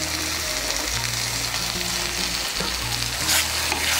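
Taro greens with sugar and slit green chilli sizzle and fry in a pan while being stirred, a steady close crackle running throughout with no voices.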